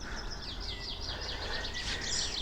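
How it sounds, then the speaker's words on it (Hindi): Birds chirping in the mountains come as faint, quick twittering calls over a steady hiss of wind or road noise. "चिड़ियों की आवाज़ है।"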